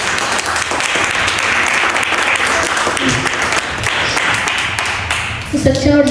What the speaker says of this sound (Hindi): आइए हम अपने सर्वशक्तिमान परमेश्वर के लिए एक जोरदार ताली करें